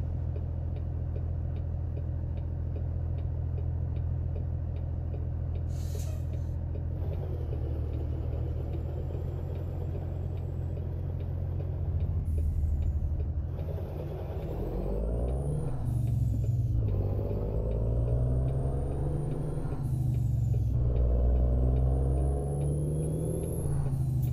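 A heavy diesel truck engine in American Truck Simulator rumbles steadily and loud, its low drone rising and shifting in pitch as it revs, with occasional clicks and hisses.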